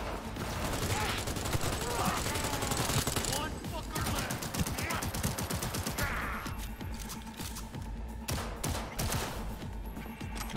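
Constant rapid gunfire with ricochets in Cyberpunk 2077, dense and loud throughout, with mechanical clatter and some talk mixed in.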